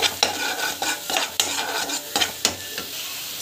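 Raw banana pieces stir-fry with salt in a pan, a steady sizzle broken by repeated sharp scrapes and clinks of a spatula against the metal at an uneven rhythm.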